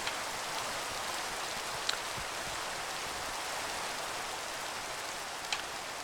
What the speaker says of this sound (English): let's stop the rain and make it daytime again